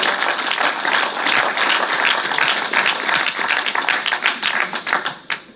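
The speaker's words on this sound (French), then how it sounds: "On l'applaudit très fort." Loud, sustained audience applause at a live francophone event, crisp close hand claps building into a dense roar that continues for several seconds, then thins into scattered individual claps.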